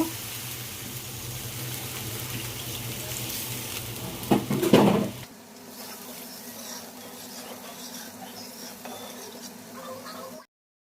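Water poured into fried masala that has released its oil, for a rohu fish curry: a dense sizzling hiss with a loud splashing burst midway, then a quieter steady bubbling that stops abruptly.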